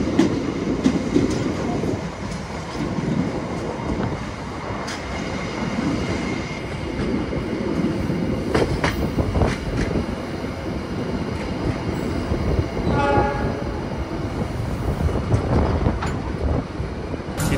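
A KA Cikuray passenger train rolls steadily near Padalarang station, with continuous rumbling wheels and clattering joints, brief squeals and a rising whine near the end as it meets a local train.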